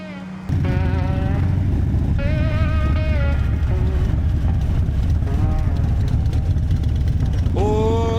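Motorcycle engines start and rumble as a group of riders sets off on a road trip in Canada, a loud, close, steady drone with rising revs, and a voice talks over it.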